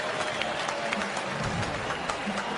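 A cricket stadium crowd roars and cheers after a big hit clears the boundary into the second tier, a dense, sustained wash of cheering and applause with a faint commentary voice underneath.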